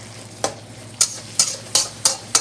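Bean sprouts being stir-fried in a pan, a soft sizzle under six rhythmic scraping strokes of a spatula, close and clear with no talking.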